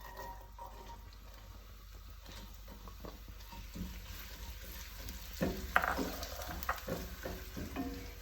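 Ten peeled, sliced garlic cloves fry in olive oil in a pan, giving a steady soft sizzle with occasional stirring scrapes and light clinks, fairly quiet and close.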